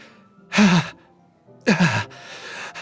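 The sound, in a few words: sharp inhale breathing sound in Doki Doki Literature Club video game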